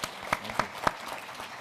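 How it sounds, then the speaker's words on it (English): Conference audience at an African infrastructure investment session in Kigali giving a short round of applause, a few distinct claps standing out over a light, thin spread of clapping that fades quickly. "Please join me with a round of applause."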